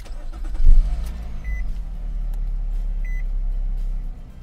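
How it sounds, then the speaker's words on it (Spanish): A Nissan engine turns over and settles into a steady low idle rumble, with a couple of short electronic beeps sounding over it. "Vamos a encender la camioneta, el carro."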